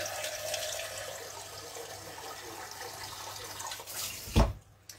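Tap water running into a container while preparing water for a fruit juice recipe, a steady faint trickle ending in a short louder splash and clunk.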